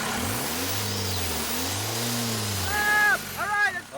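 A turbocharged car engine, checked for a possible boost leak, revs up and down in two long sweeps, then gives several quicker, sharper blips at the end, close and fairly loud.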